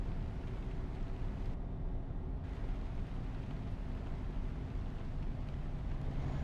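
A truck engine with an added sound pack in Euro Truck Simulator 2 on a drive from Pamplona to Cambridge. A steady low engine drone and road rumble hum continuously at even loudness, with no talk.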